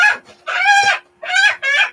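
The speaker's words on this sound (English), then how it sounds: "Oh, roosters, give it a rest." Roosters crow loudly at close range on a backyard farm with hens, several strained calls following one another within two seconds.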